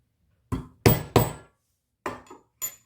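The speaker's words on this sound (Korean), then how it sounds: "오늘은 조금 망치 소리가 자주 나겠네요" A hammer strikes a metal stamping tool on leather five times in irregular sharp taps, close and loud, each with a short ringing decay, the middle two strikes coming quickly together.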